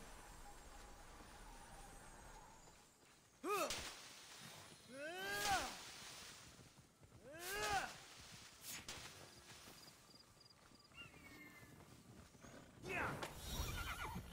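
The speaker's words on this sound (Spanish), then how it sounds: "Voy montando el caballo de bonanza." A horse in the video game Immortals Fenyx Rising neighs and whinnies several times, with clip-clopping hooves and rustling in between, fairly faint against a quiet game backdrop.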